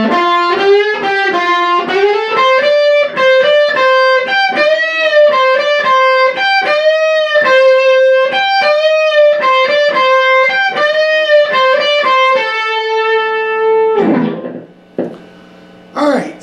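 Electric guitar playing a twangy chicken-picking lick, a distorted, effects-laden run of plucked notes repeated four times, loud and close, ending in a few scrapes and muted strums.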